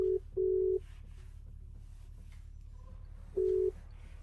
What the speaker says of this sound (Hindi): अब फोन करना पड़ेगा गुड़गांव महिंद्रा में, या विक्रम भैया को करता हूँ